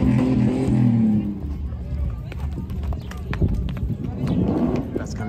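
Horses carrying young riders in a parade escorting queen candidates at a community celebration in Lobatos, Valparaíso, Zacatecas clop along under constant crowd babble, with people talking nearby.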